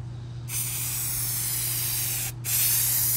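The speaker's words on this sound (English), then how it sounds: "You're going to spray this whole section and the top of that all evenly." Two bursts of hissing aerosol adhesive sprayed onto headliner fabric for a 1984 Buick Grand National, close by, the first long and steady, then a short pause before a second, louder burst.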